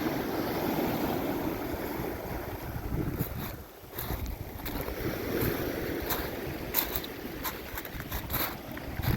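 Waves roll in continuously on a Cornwall beach, a steady broadband wash of surf with wind buffeting the microphone throughout and no voices.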